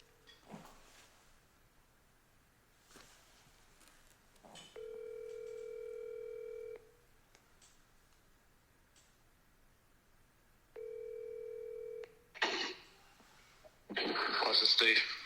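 Outgoing phone call on redial: two long steady ringback tones sound in turn with short gaps between, after a few faint clicks, then a louder burst of noise and a voice answering near the end.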